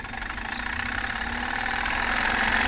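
A homemade Stirling engine fitted with a new cold piston running, a steady continuous mechanical whir with a fine rapid pulsing texture, close and even, slowly growing a little louder.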